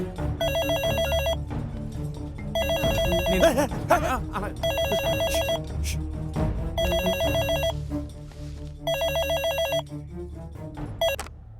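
A telephone rings in repeated bursts, about five regular double-trill rings with pauses between, moderately loud, while people talk and move around in a comedy scene.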